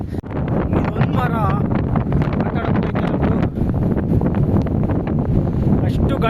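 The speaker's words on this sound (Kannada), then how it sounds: "ಅಷ್ಟು ಗಾಳಿ ಹೊಡಿತೈತಿ." Strong wind roars on a rocky hilltop trekking spot at Jalamangala, buffeting the microphone with a loud, continuous, gusty rumble that drowns out any other sound.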